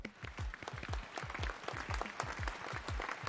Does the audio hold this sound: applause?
yes